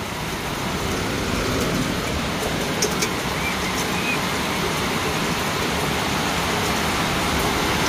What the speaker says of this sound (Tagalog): Malakas ng ulan mga kalongger, oh.